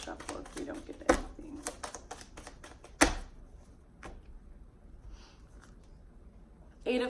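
Quick papery clicks of tarot cards being shuffled, busy at first with two sharp snaps, then thinning to sparse taps, close and quiet.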